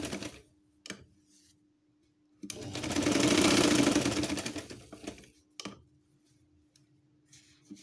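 A sewing machine stitches a patchwork fabric basket in one continuous whirring run of about three seconds, close and clear, with a few soft clicks and handling noises before and after.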